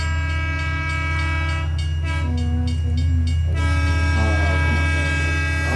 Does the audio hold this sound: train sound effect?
yes